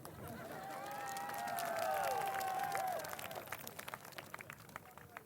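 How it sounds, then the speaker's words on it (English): A graduating class at a 2018 commencement ceremony applauds, a broad wash of clapping that swells and then thins into scattered claps, with a few whistles or cheers riding over it. "Yeah, you can applaud."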